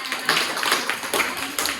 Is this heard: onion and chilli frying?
no